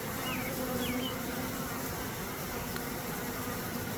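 A honeybee swarm buzzing around its queen during a net swarm capture, a steady dense hum of many bees with a few louder bees passing close.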